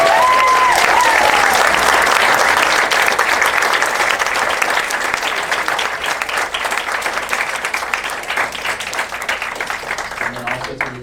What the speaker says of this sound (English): So can we give a round of applause for